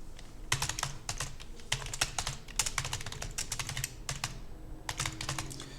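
Rapid keystrokes clatter on a computer keyboard while text is entered in a Hangul word processor, coming in close, brisk bursts with short gaps and no talking.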